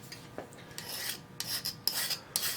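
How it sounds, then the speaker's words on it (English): Rasping file strokes deburring the freshly cut end of a metal guitar control plate, several short scraping passes in irregular rhythm, close and fairly quiet, no talk. "Deburr it again."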